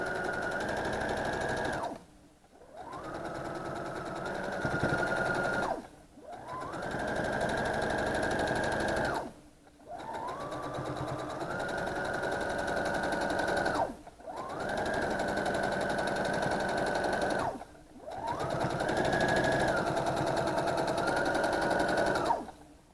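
A sewing machine stitches rows across a quilt in about five steady bursts, each a few seconds long and separated by short pauses, its motor whirring close and clear with no one talking.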